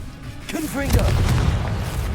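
A Confringo fire-blast spell bursts in a wizard video game, a loud booming impact that swells mid-clip and rolls on under a speaking voice.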